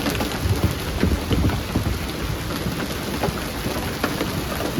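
Heavy rain pours steadily outdoors in changeable late-summer weather near horses, a loud dense hiss with spattering drops and low rumbling underneath, continuous throughout with no voices.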